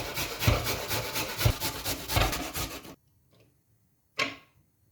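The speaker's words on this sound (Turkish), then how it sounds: "Havuçlarımı rendeledim." Carrots rubbed back and forth over the fine side of a metal grater in a home kitchen, a close rhythmic scraping rasp for about three seconds, then a pause and one more short grating stroke.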